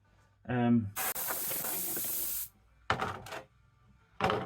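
An airbrush sprays Fastrax Fast Finish black paint at a raised pressure. A brief voice comes first, then a steady close hiss of about a second and a half, followed by two shorter spray bursts.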